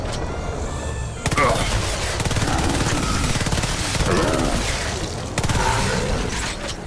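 Rapid, sustained gunfire from a gun in a zombie shooter video game blasts loudly and almost continuously, broken only by a brief pause around a reload.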